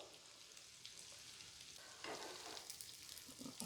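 Unni appam (nei appam) frying in ghee, a quiet continuous sizzle and crackle that grows a little louder and busier partway through, with no one talking.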